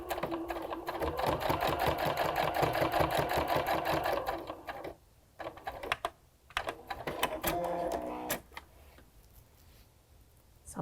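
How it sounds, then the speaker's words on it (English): A sewing machine runs a quarter-inch seam on a log cabin potholder, stitching in a fast, steady stream for about five seconds, then in shorter stop-start bursts before going quiet. "So we're going to stitch one of these sides again with our 1/4 inch seam."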